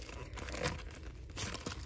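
An NWSL Premier Edition trading card box being cut open, close crinkling and tearing of plastic wrap and cardboard in a steady irregular rustle with a few sharper rips, no talk.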